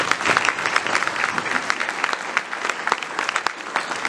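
Applause from the audience at a Republican women's candidate forum, a steady crowd of clapping hands at moderate loudness that continues throughout the clip, with some claps standing out sharply.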